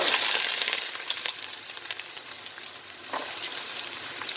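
Garlic frying in a pan for chicken kabsa, a loud, dense, close sizzle that eases slightly, then swells again near the end, with faint stirring scrapes and no talking.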